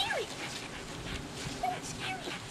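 A herding dog near sheep whimpers and yips in thin, high rising and falling whines, several short cries scattered over the clip amid outdoor noise while people are present.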